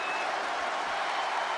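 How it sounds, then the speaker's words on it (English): A capacity arena crowd in the WWE 2K25 wrestling game roars in a steady, broadband wash of cheering that holds at an even level throughout, with no distinct voices standing out. "With every move you make, you hear this capacity crowd following you on that journey."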